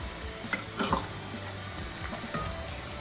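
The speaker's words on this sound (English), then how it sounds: "I'll stir this for about 5 minutes and put it on the side." Red red bean sauce with shrimp powder being stirred in a frying pan, a low steady sizzle with a few soft spoon scrapes and clinks near the middle, close and quiet, no talking.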